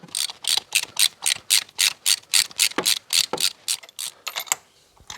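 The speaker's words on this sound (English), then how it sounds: "With a 5/8 socket, spark plug socket, slide down the hole and undo your spark plugs." A ratchet with a 5/8 spark plug socket is cranked in quick, regular bursts of clicking while undoing the spark plugs on a Mazda CX7, close and loud, then slows and stops.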